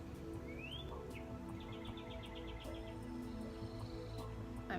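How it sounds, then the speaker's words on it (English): Small bird chirping in short bursts and a quick trill over steady outdoor background hum, fairly distant and soft. "He's being really talkative. He wants to be on the video, that bird."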